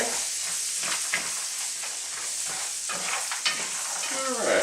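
Nuts with melting butter sizzle steadily in a pan over medium heat while a spoon stirs them, with irregular scraping strokes over a constant bright frying hiss and no talking.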